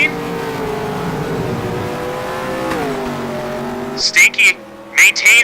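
Race cars in a racing video game rev and drone with shifting engine pitch, one tone dropping as a car slows, followed by short bursts of tire squeal near the end.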